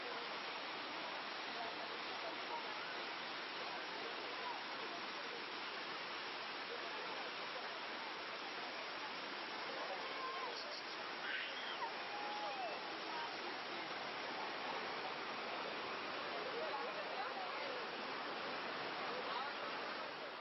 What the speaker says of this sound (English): Dhuandhar, the famous waterfall, is located just 25 kilometers from Jabalpur.